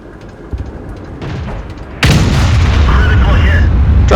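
A T49 tank's big gun firing in a video game, a heavy boom that opens into a loud, sustained roar of blast and rumble filling the second half of the clip after quieter engine-like noise.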